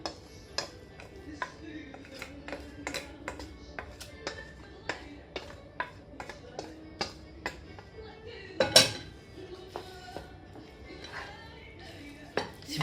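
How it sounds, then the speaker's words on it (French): Chopped Chinese noodles being mixed into meat in a bowl for brick-style msemen, giving repeated light clinks and scrapes of utensil against the bowl, with one louder knock near the end. "je les hache grossièrement et je viens les mélanger à ma viande"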